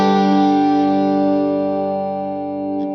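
Sustained clean electric guitar chord through Two Notes Genome software with stereo chorus, delay and reverb, ringing out loud and alone before slowly decaying, a faint pick noise near the end.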